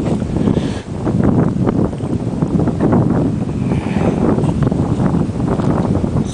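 Wind blows outdoors by the water near sailboats and sluices, a loud, gusty rumble buffeting the microphone continuously.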